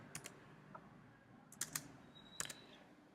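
Quiet keystrokes on a computer keyboard, a few short clusters of crisp taps separated by pauses, close and soft, with no talk.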